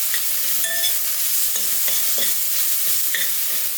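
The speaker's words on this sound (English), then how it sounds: "Fresh ground black pepper, salt, hit that another stir." A pot of rice and peas seasoned with fresh ground black pepper and salt being stirred: loud continuous sizzling with a few sharp scraping strokes of a spoon against the pot, close up, no voices.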